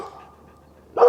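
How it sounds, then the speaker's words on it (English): A leash-reactive dog on a walk gives a short, loud bark near the end after a quiet stretch with faint background sound. "We're not gonna stop every bark right now."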